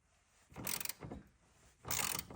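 Wrench turning a bolt on the front control arm of a Renault Scenic during a control arm replacement. The ratcheting clicks come in two loud close bursts, with a softer one between them and no talk.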